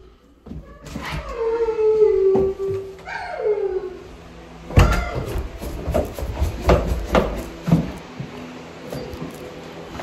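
Pit bulls let out drawn-out howling whines near the mic, followed by clattering and scuffling sounds with more short vocal bits mixed in.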